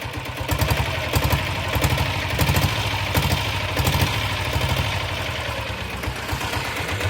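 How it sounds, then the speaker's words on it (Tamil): A diesel Royal Enfield Bullet fitted with a double-core silencer thumps along in a muffled, steady idle with a few gentle revs. It has a rhythmic low beat and light mechanical clatter, and no one speaks. "டபுள் கோரை போட்ட பிறகு சத்தமே வராது. லைட்டாக ரைஸ் பண்ணு சார், அவ்வளோதான். இவ்வளோ தான் வருமே சவுண்டு."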